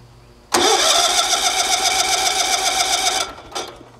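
A small engine with its choke adjusted fires up suddenly and runs with a loud, close, buzzing rattle for nearly three seconds, then cuts out, followed by a brief short burst.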